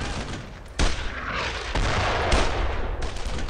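Heavy gunfire in the World War II shooter Brothers In Arms: Road to Hill 30, sustained volleys of rifle and machine-gun shots with sharp booming onsets, loud and continuous, no talking.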